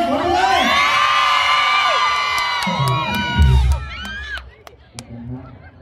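Fans at an outdoor Thai likay folk theatre performance scream and cheer in long, shrill, overlapping shrieks that build to a loud peak, then thin out into scattered whoops and cries.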